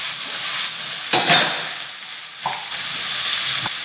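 Vegetables frying in oil in a pan, a steady soft sizzle with a few brief louder clatters of stirring, close and without talk.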